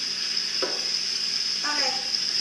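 Tilapia fish frying in hot oil gives a constant bright sizzle close by, with a couple of short voice-like bursts breaking over the steady hiss.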